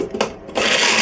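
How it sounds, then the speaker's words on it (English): A closed container of chopped mock turkey shaken by hand, a short loud rattling burst that breaks off and then surges into a sustained close swish. "we're gonna screw on the top and shake it down"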